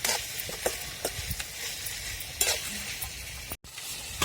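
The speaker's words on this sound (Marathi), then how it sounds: "आपली गिरवी पण तिकडे परतायची चालली आहे" Onion-tomato gravy for cashew curry sautés in a pan with a steady close sizzle, punctuated by several sharp spoon scrapes and stirring knocks, with a brief silent gap near the end.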